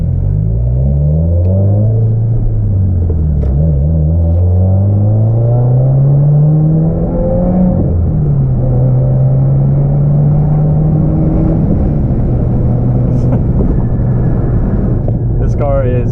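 A car with a Maxton Design V1 front lip drives along a road on a hot day, its engine a steady close rumble that rises and falls with gear changes and throttle, while a driver talks over it.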